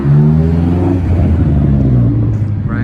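A Honda S2000 with a custom single exit exhaust gives a loud, close engine rumble that rises and steadies while driving.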